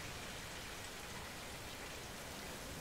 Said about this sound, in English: The great rain.